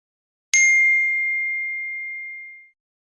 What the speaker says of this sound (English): his phone chimed with a single notification